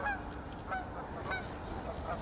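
Geese honk in flight, several clear calls spaced about every half second, moderately distant over a soft background hiss.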